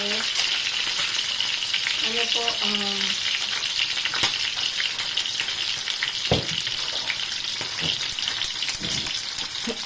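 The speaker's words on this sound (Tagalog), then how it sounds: "So, ang gagawin ko po, gigisa ko lang sa parang style chop suey." Vegetables sautéed chop suey style in a pan, a dense continuous sizzle with occasional spatula scrapes and clatters, close and fairly loud throughout.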